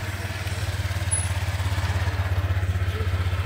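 A rented motorcycle engine idling steadily with a low, pulsing throb, close and continuous throughout, with faint background noise and no clear talk.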